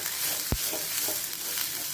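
Onion, garlic, curry leaves, ginger and green chilli frying in a pan for a Kerala-style fish curry, a steady soft sizzle with a brief stir or scrape partway through, no voices.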